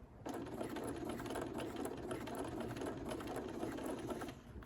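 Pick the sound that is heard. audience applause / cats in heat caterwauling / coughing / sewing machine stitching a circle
sewing machine stitching a circle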